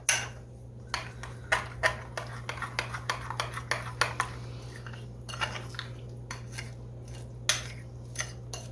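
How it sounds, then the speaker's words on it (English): A spoon stirs herb bread batter flavored with dill in a bowl, making a run of irregular clinks and taps against the bowl over a low, steady hum, with no talk. "So now we're just going to stir this up."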